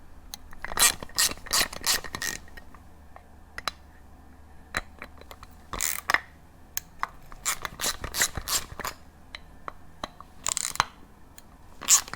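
A hand ratchet backs out the screws on a Honda/Acura B-series ignition distributor during a rebuild, giving repeated bursts of sharp clicking in quick runs with short pauses between them, close and fairly quiet.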